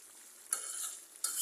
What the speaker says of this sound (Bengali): একটু ডিম দিয়ে দিলাম